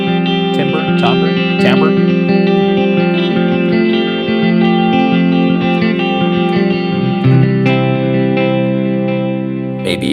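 An electric guitar plays through an Earthquaker Devices Avalanche Run delay and reverb pedal with swell, giving loud, sustained chords that wash into a long shimmering tail, and a voice speaks briefly near the start.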